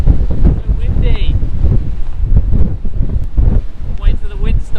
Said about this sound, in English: Wait till the wind stops.